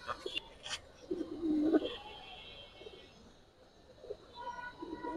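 Giribaz pigeons coo in short, low bursts close by, with quiet pauses between the calls and faint background chatter.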